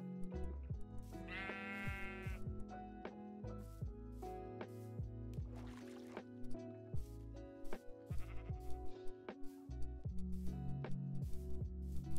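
Goats bleat repeatedly in Minecraft, with several quavering, nasal calls over steady game music and ticking sounds, moderately loud and without speech.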